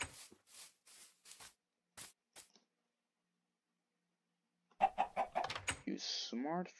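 Minecraft chicken making a few short clucks in a quick burst, followed by a clear gap and then a louder cluster of game sounds and noise.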